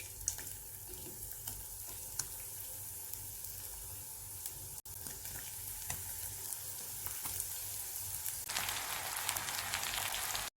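Batter-coated mixed vegetables frying in hot oil, a steady crackling sizzle that swells into a louder, hissing burst near the end, heard alone without voices.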